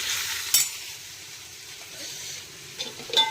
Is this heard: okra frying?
yes